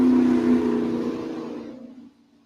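A single engine whirs past at moderate speed, loud at first and fading over about two seconds into a faint tail, with no voices.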